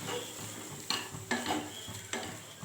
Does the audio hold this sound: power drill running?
no